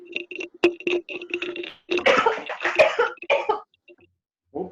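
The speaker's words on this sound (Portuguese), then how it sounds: "tem alguém que está tossindo aí" Several coughs and throat-clearing bursts from a person in a live online review class, loud and close, in uneven clusters with short pauses and a final brief cough after a silence.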